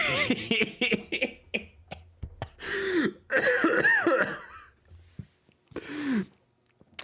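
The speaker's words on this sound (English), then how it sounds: "this cough is because I inhaled too fast and a little bit of spit enters my" A person coughs repeatedly after inhaling too fast and catching a little spit, a close run of harsh coughs and throat clearing in bursts with short pauses between fits.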